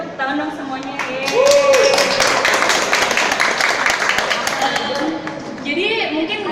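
An audience claps at a Jakarta Biennale art exhibition roadshow event: a burst of dense, scattered hand claps builds and fades over a few seconds, mixed with voices.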